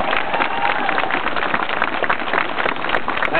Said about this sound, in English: Could we just have a special round of applause, not only for the Vikings who are here, but also for our Black History Tour group